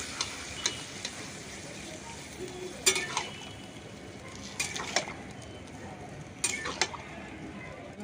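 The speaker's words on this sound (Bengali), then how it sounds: "এখানে আস্তে আস্তে করে দুধটা মিশিয়ে দিচ্ছি" Milk is stirred slowly into Bengali sukto in a pot: a spoon scrapes and clinks against the pot every second or two over a soft, steady simmering hiss.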